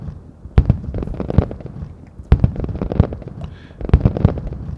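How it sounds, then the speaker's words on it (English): Fireworks shells bursting in a rapid series of loud, close booms and crackles, with several sharp peaks separated by brief, dense stretches of popping. "we are going to make some fireworks"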